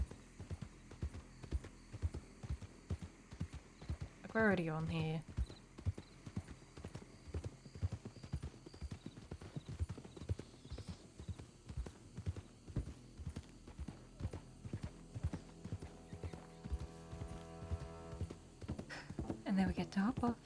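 Horse hooves clip-clop steadily throughout a ride in the western roleplay game WildRP, a continuous rhythmic patter under a person talking, with a brief whinny near the start and another near the end.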